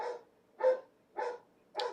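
An arthritic older dog fussing indoors, giving four evenly spaced, close, moderately loud barks about half a second apart with near silence between.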